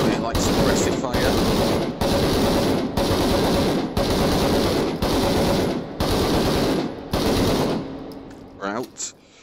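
Loud machine gun suppressive fire in a video game comes in about seven sustained bursts separated by brief gaps, with faint voices near the end.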